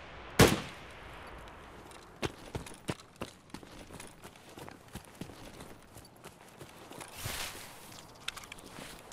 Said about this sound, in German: Das sind Schüsse